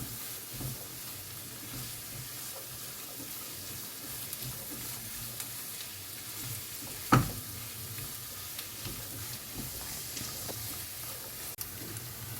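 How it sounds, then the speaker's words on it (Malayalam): Paneer samosa filling sautéing in a pan, a steady soft sizzle with occasional stirring scrapes and one sharp clack partway through, no talking. "എല്ലാം കൂടെ ചേർത്ത് നമുക്ക് നല്ലപോലെ വഴറ്റിയെടുക്കാം."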